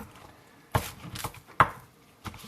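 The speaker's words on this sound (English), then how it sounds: "I want to cut these thin, so I'm going to cut them thin." A knife slicing green onions thinly on a cutting board, with a few separate close chops spread unevenly and quiet gaps between them.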